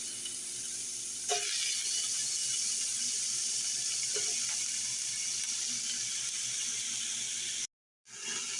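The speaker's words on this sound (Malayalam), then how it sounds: "ചൂടായ ഓയിലിലോട്ട് ഞാൻ 4 ചെറിയ സവാള നീളത്തിൽ കട്ട് ചെയ്തിട്ടുള്ളതാണ്," Sliced onions, four small ones cut lengthwise, fry in hot oil for a Kerala-style chicken roast, giving a steady loud sizzling hiss that runs unbroken before cutting off abruptly near the end.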